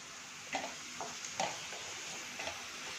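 Curd is stirred into spiced masala in a pan over low heat, giving a soft background sizzle broken by a few light spatula scrapes and taps against the pan.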